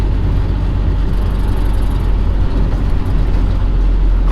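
A loaded truck with a 10-speed gearbox climbs steep hills, its diesel engine a loud, steady low drone heard from inside the cab, with two faint thumps around the midpoint.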